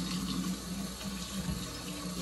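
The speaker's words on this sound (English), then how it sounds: "need to rinse my potato" Tap water runs steadily into a sink as a potato is rinsed before peeling and frying, a loud close splashing flow with slight fluctuations and no talking.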